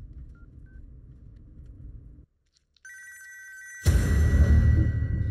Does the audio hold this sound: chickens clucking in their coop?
no